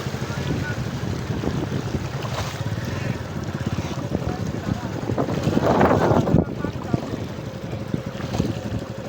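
A motorcycle pushing through deep floodwater on a flooded road, water nearly reaching the silencer, gives a continuous rushing, sloshing wash with wind buffeting throughout, and a voice speaks over it.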